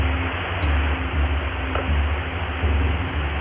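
Recorded broadcast of the Russian UVB-76 radio station: a continuous low, rough buzzing drone under a bed of static hiss, steady and unbroken with no voice.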